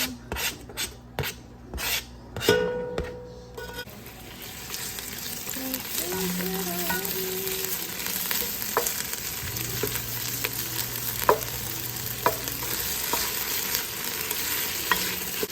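Onions, ginger, garlic and scallions frying. A few sharp scraping strokes at the start give way to a steady sizzle, with intermittent utensil scrapes and light clatter close by.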